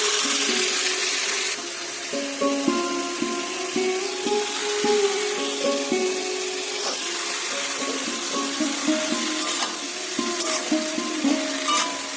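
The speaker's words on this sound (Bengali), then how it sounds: "এইবার আমি সয়াবিনের থেকে জলটাকে আর কি বের করে নিচ্ছি" Water drains from soaked soybean chunks in a home kitchen, a running, splashing wash with small clinks, set against a steady frying hiss nearby.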